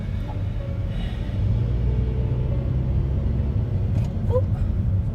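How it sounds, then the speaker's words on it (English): A steady low engine rumble and road hum fill the cabin of a car being driven home, continuous and fairly loud, with faint higher tones from a navigation prompt briefly rising over the drone. "I'm driving home right now after my doctor's appointment"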